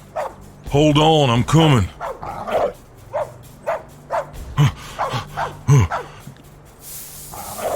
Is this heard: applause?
no